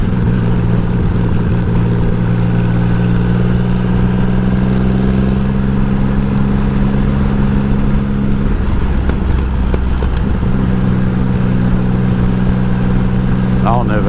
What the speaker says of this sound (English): Some sort of sports bike anyway.